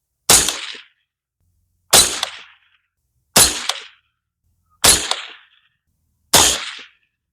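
Five sharp gunshots from a Bear Creek Arsenal 22 Magnum rifle upper firing CCI Maxi Mag TNT 30-grain jacketed hollow points, evenly spaced about one and a half seconds apart, each a loud crack with a brief decaying tail and silence between.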